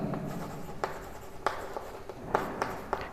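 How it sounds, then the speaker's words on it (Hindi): Marker or chalk strokes on a board during a maths lesson on arithmetic progressions, a run of short scratchy squeaks and taps at an irregular rhythm, close and fairly quiet over low room noise. "शॉर्ट फॉर्म में लिख रहा हूँ"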